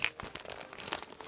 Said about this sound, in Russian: Давайте распакуем.